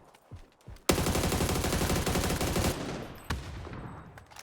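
Rapid automatic gunfire in the video game PUBG on the Sanhok map rattles in a long, loud burst, followed after a short gap by another sharp shot, with faint thuds before it.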